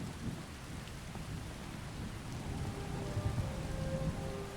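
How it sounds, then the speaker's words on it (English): Steady rain falling in Skyrim VR, a continuous dense patter with low thunder rumbling beneath it, heard alone without voices. "The rain atmosphere is nice."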